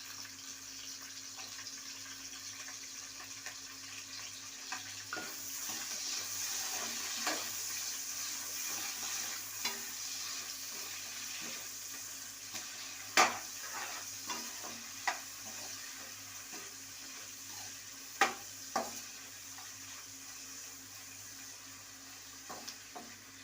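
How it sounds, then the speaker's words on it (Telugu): Chopped onions fry in oil for a mushroom biryani, a quiet, steady sizzle broken by intermittent scraping and clinks of a stirring utensil, with no one speaking. "ఆనియన్ వేసేస్తున్నాను"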